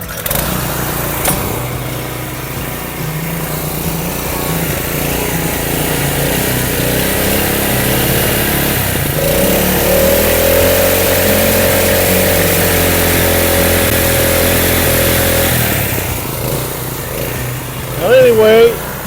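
A Subaru-engined pressure washer, left sitting over a year and primed with starter fluid, is started and runs with a loud, steady mid-pitched engine drone close by before cutting off near the end.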